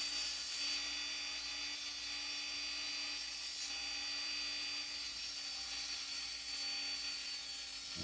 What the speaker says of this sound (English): I use my grinder and grind one end of the axle off.